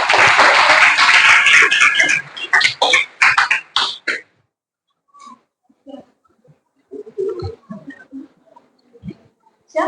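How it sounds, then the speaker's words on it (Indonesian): Classmates in a classroom clap for a student about to present a poster: loud, dense applause for about four seconds that breaks into a few scattered claps and then stops, followed by quiet room noises and soft movement. "Oke, tepuk tangan dulu untuk temannya."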